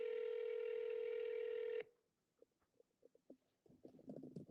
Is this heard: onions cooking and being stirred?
no